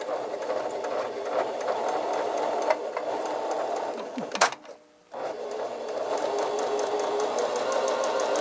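A sewing machine in a sewing and vacuum shop stitches through denim layered with tissue, a loud steady whirring hum that cuts out briefly and then starts up again.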